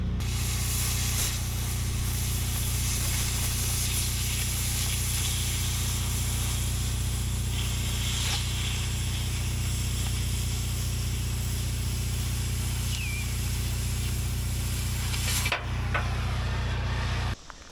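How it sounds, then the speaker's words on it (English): An oxy-fuel cutting torch clips off steel during a backhoe's skid steer quick-attach conversion, giving a loud, steady, close roaring hiss that runs unbroken for about fifteen seconds before a brief cutoff and restart. "Let's clip this off with the torch."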